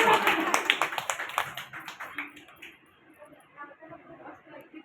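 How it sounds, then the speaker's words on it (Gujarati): A group of people at a gathering claps together, loud and close at the start, then thins into scattered claps and fades out while voices murmur in the background. "બધા તાળી પાડો"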